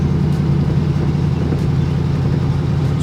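A 2011 Factory 5 GTM sports car driving, its engine giving a loud, steady low rumble from inside the cabin with no voices.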